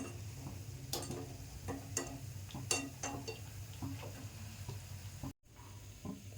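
Sweet shankarpali dough pieces deep-frying in hot oil, a steady low bubbling sizzle with scattered sharp crackles and pops, continuous and close, broken by a brief moment of silence near the end.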